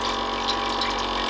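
Battery-powered water pump for a camping titanium coffee maker filling a cup with water, a steady close whirring hum over a continuous trickling pour, alone with no talk.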